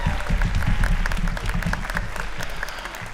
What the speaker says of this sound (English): Let's give a round of applause to our intro jazz band for all they've done.